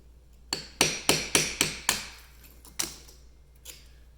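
A hammer drives a chisel into brick in a quick run of about six sharp, ringing strikes, then a pause and a couple of lighter taps, close and clear.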